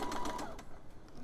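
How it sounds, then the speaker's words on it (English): A sewing machine stitches the side seam of short knickers through several fabric layers, a short quiet mechanical whir that fades after about half a second. "Just sewing the side seam here"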